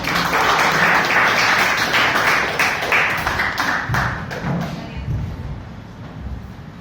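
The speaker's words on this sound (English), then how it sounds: "Please give a warm applause." An audience at a Toastmasters meeting welcomes a speaker on stage with close, lively applause. Many hands clap densely at first, then thin out and fade toward the end.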